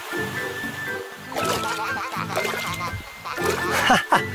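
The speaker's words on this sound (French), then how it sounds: "Ça éclabousse." Water splashing from a fountain in an animated children's cartoon, bursts of splatter rising over background music.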